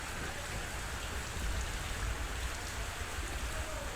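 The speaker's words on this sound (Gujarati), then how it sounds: "શહેરના મુખ્ય માર્ગો પર પાણી વહી રહ્યા છે" Steady, dense monsoon rainfall pours down with a constant wash of water flowing on city streets, a continuous full hiss from start to finish with no voices.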